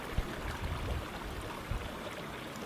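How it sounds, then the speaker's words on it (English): Spring water bubbling up from the ground in the Dog Pound Creek Valley among winter snow, a soft continuous trickling flow with a couple of small gurgling splashes. "A spring bubbles up from the ground in the Dog Pound Creek Valley."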